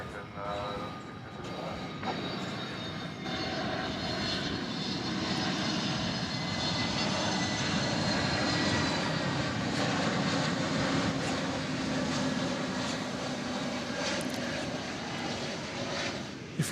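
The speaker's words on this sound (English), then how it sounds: "Here comes the flight from Los Angeles" A passenger jet airliner arriving at DFW Airport on a flight from Los Angeles, a swelling, steady engine roar building to a peak and holding, moderately distant, with some faint background voice.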